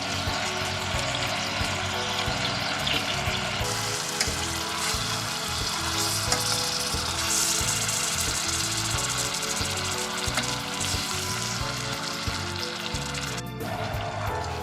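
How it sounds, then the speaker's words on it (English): Berry sauce cooks in a pan with a continuous bubbling sizzle and occasional stirring, accompanied by a steady low hum and a short clatter near the end. "Give it an occasional stir."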